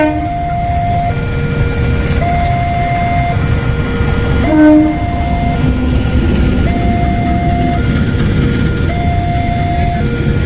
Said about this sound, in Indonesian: Dan kereta yang lewat adalah kereta api apa ini?